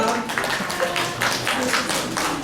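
A church congregation claps hands together during a worship service, with dense, steady applause-like clapping throughout and some voices mixed in.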